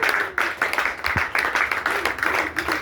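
A church congregation claps hands during a revival service, a quick rhythmic patter of many hands repeating in even bursts for a few seconds.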